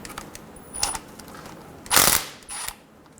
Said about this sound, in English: Using a 10mm socket, we're going to go around and remove the 13 bolts for the oil pan